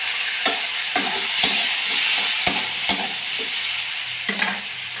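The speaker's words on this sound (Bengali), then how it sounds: "তখন আমি কুঁদরিগুলো ভেজে নেবো" Ivy gourd (kundri) fries in hot oil with salt and turmeric, giving a continuous bright sizzle. Sharp spatula scrapes and taps against the pan come roughly every half second as the pieces are stirred, close by and with no talking.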